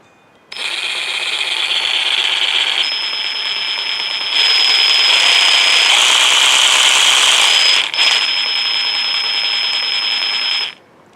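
An Evolution R150RCP cordless saw runs steadily and loudly for about ten seconds with a high whine, changing pitch partway through, then stops abruptly. No one speaks.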